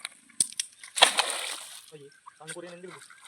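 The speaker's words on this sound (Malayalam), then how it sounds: "വെറുതെ കല്ലെടുത്ത് തോട്ടിലിടുന്നു" Stones tossed into a shallow stream on a fishing outing land in two or three short splashes and sloshes, the biggest about a second in, while people talk nearby.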